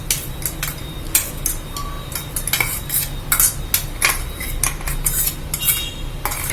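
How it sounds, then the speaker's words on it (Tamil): A spoon stirs grated coconut and green chilli paste into a banana stem stir-fry in a pan, giving repeated close scraping and clinking against the metal in an uneven rhythm with no talk. "தேங்காயை போட்டாச்சு, நல்லா பிரட்டியாச்சு."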